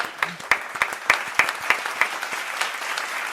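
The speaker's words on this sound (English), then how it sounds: "Damn, these claps are high." A small group claps by hand, sharp individual claps landing in a loose, uneven rhythm that thins out toward the end, with no voices.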